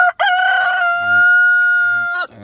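A young rooster gives one loud, close crow, a sustained tonal call lasting about two seconds, with faint clucking beneath.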